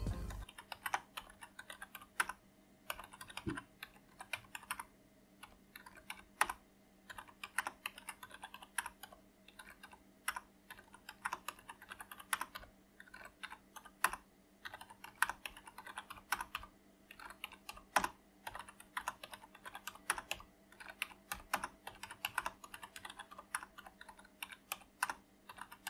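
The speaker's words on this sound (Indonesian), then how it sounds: "Dan berikut suara dari keyboardnya sendiri" Steady typing on a quiet membrane computer keyboard, a close, continuous run of soft key clicks with irregular rhythm and occasional louder taps, no voices.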